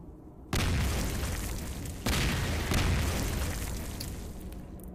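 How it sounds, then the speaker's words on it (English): Explosions in the survival video game Cataclysm: Dark Days Ahead, two distinct heavy booms about a second and a half apart, each a sudden loud onset followed by a long rumbling decay, with no talk over them. "Lots of explosions to the north."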